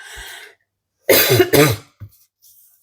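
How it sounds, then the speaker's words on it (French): Two sharp, close coughs in quick succession after a short breathy sound, followed by a faint throat noise. "ça me fait tousser"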